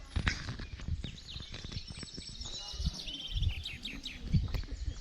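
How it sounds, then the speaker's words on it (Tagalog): High, quick chirping bird calls ring out over rustling and thudding footsteps, the calls clustered in the second half. "Yun, ibon eh."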